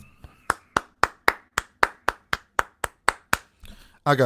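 A pair of hands claps about thirteen times in a steady, even rhythm, each clap sharp and close. A voice comes in right after the final clap.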